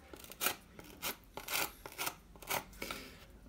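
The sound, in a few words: drill bit carving bullet holes into a concrete-look ruin prop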